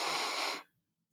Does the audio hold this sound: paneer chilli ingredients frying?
no